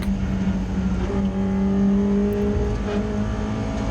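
A Ford Puma race car at a BRSCC Clubsport Trophy race at Oulton Park passes with a loud, steady engine drone whose pitch climbs as it accelerates, mixed with other engines in the background.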